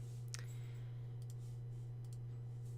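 A few faint, sharp computer mouse clicks in sprite editing software, scattered singly over a steady low electrical hum, with no talking.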